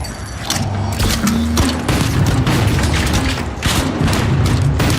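A frag grenade blast in the online shooter The Finals: a loud booming explosion with rumbling low end, surrounded by continuous gunfire and combat noise across the whole stretch.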